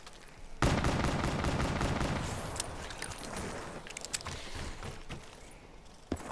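Rapid bursts of gunfire in Call of Duty Black Ops III Zombies, a loud sustained volley at first followed by scattered single shots, with no talking.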